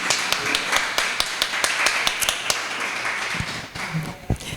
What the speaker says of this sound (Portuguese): Vamos aplaudir a Silvana